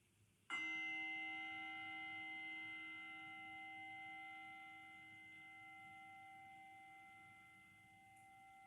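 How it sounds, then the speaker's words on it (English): A single bell for sleep yin yoga struck once, ringing with a clear metallic tone and steady harmonic overtones that slowly fade over several seconds in a quiet room, no voice. "Wait for the bell to fully diminish before shifting your posture."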